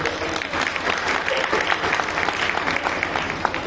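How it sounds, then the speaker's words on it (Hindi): A crowd claps loudly and continuously for several seconds, a dense, steady burst of applause. "जोरदार ताली बजाइए उनके लिए"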